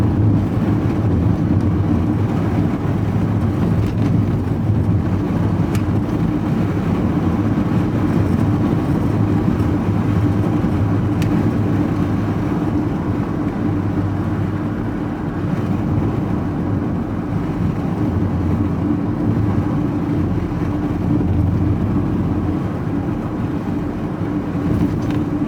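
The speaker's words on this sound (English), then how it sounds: "It's windy, I don't know how much road noise you're going to get." Loud, steady low rumble of road noise and wind buffeting inside a moving van on a windy day, continuous throughout with no talking.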